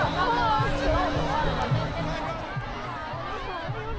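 A large crowd gathered around a popular figure at a Christmas gift handout in China chatters steadily, a dense babble of many overlapping voices close by and loud throughout.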